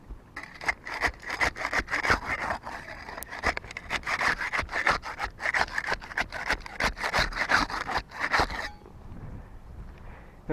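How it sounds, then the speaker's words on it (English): A putty knife scrapes along roof shingles to unseal the top row, giving close, repeated rasping strokes in a quick rhythm for about eight seconds before stopping. "We'll get started with the putty knife. We'll use that to unseal the top row shingles."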